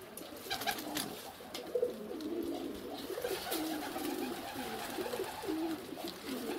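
Pigeons cooing in a village, soft repeated low coos over a faint outdoor background, fairly quiet and unbroken by speech.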